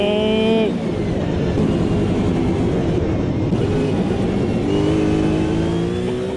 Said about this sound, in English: Throaty V8.